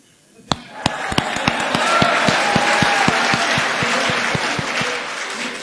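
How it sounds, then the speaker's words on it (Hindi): An audience at a Hindi poetry recital breaks into clapping, starting with a few sharp, distinct claps that quickly swell into sustained, fairly loud applause from a crowd before gradually thinning. "अगर विश्वास हो तो ताली बजा देना"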